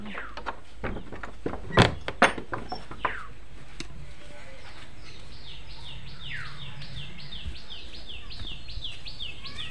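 A door is pulled shut in a village house with a few loud wooden thunks, followed by quieter ambience as birds chirp repeatedly in the background.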